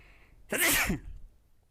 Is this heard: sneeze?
yes